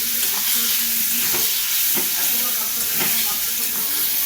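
Potatoes frying with onion, garlic, ginger, green chilli and Kashmiri chilli are stirred in a pan, giving a loud, continuous hiss and sizzle with occasional spatula scrapes.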